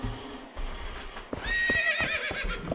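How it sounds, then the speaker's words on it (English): A horse neighs loudly in the Zelda Twilight Princess video game, a bright, wavering whinny rising over a busy game soundscape with hoof clip-clops and effects underneath. "Got it just as opponent was neighing"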